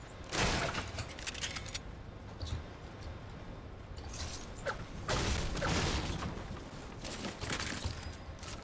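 Fortnite gunfire crackles in several bursts of rapid shots, with a loud volley near the start and more clustered bursts around the middle and end, over steady mechanical game noise with no talk.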